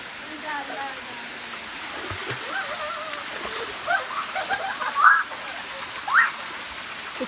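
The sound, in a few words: flowing stream water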